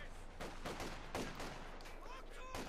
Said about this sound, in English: SVT-40s, PTRSs blasting away there